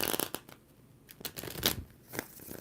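Tarot cards are shuffled by hand in quick, close riffling bursts, several short papery flutters separated by brief pauses at low volume.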